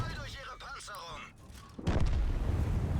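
A tank cannon fires in the World of Tanks video game, a sudden loud booming blast that rings out after a stretch of voice and stays loud to the end.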